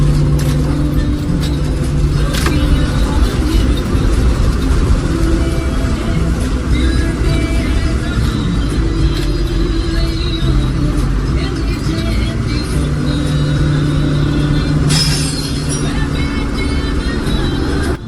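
A bus drives a mountain route from Kihar to Chamba, its engine droning loud and steady throughout with road rumble, and voices talking underneath.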